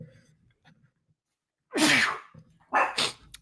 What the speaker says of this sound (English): I'm going to sneeze here in a second